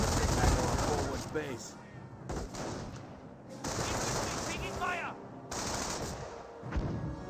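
Light machine gun fire in the Company of Heroes battle game, bursts of rapid shots and explosions in a busy battlefield mix, with a voice talking over much of it.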